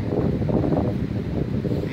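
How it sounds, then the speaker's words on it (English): Steady wind rushes and roars through trees, a low broad blowing sound buffeting close by without pause. "it turns out it's the wind cutting through these trees"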